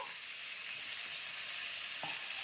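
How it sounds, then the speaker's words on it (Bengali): Pumpkin and potato pieces fry together in a pan, producing a faint, steady sizzling hiss with one soft knock near the end. "কুমড়োটা আর আলুটা একসাথে আমি দিয়ে দিচ্ছি সবগুলো, দিয়ে একটু ভেজে নেব"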